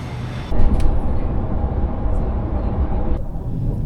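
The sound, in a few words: Sydney train departing from Central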